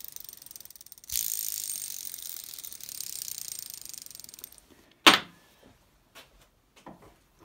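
A Peugeot 103 Vogue moped engine bottom end, removed from the frame, turned over by hand and making a bad, rough noise: a steady ratcheting, grinding whir for several seconds, then a sharp clunk and a few faint knocks, close by.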